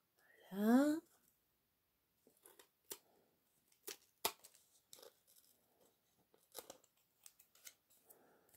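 Short snips of scissors cutting an egg shape out of glued layers of paper, several quick cuts spaced apart, with a brief voice sound at the start.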